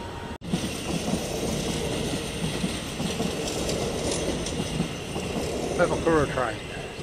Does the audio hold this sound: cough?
no